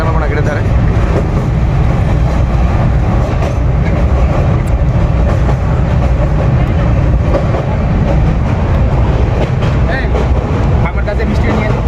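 Loud, continuous rumble and clatter from a train running toward Darjeeling, heard from on board, with a steady rattling rhythm that persists throughout.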